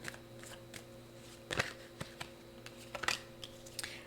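Tarot cards being handled and shuffled indoors, giving faint, soft papery riffles and flicks in a few short bursts against a quiet background.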